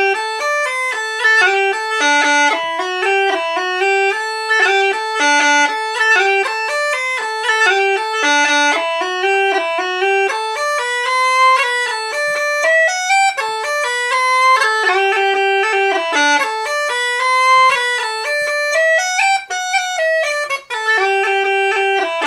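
Uilleann pipes play a continuous ornamented melody with rolls, cuts and finger bounces, bright and steady throughout, loud and close with no talking.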